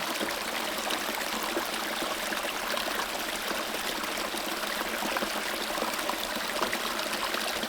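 Water flows through pipes and pours into a 55-gallon drum at a micro hydro setup, a steady splashing, trickling gush that stays constant and close, with no talk.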